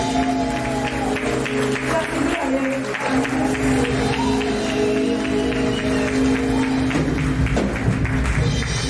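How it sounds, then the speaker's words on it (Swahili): A church congregation claps together in a steady, continuous wash of applause mixed with droning musical accompaniment, loud and close throughout. "tupige Yesu makofi"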